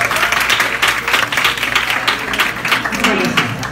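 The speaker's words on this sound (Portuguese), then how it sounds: "E uma salva de palmas pra Milena." Lively applause from a group of people, with claps ringing out steadily for several seconds and some voices mixed in underneath.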